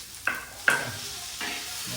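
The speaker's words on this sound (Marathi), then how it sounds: "आता टोमॅटो आणि दोन्ही पण आपण फ्राय करून घेऊया" Onion and tomato sizzling and frying in a pan, with a few scraping stirs of a utensil breaking through the steady hiss; no voices.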